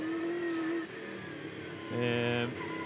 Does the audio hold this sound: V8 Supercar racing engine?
yes